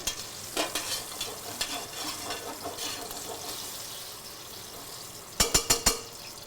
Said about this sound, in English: I can hear the skin popping. It's giving a nice sizzle.